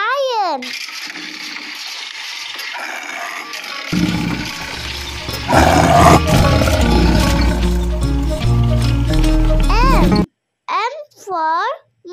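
A lion roars loudly and up close for several seconds, backed by a rumbling layer of music, then a voice and cartoon-like whooping calls follow in short bursts.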